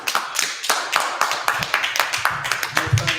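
Rhythmic clapping at a Sabbath service, a steady run of crisp claps at roughly three per second, close and fairly loud, with faint low voice sounds underneath.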